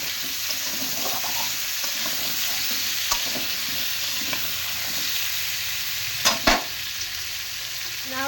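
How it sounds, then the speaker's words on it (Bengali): Potatoes frying in oil with turmeric and a little salt for aloo dum, a steady close sizzle with occasional light scrapes and a pair of sharper knocks of the spoon against the pan near the end. "এবার হলুদ দিয়ে একটু ভালো করে লাল করে ভেজে দেবো।"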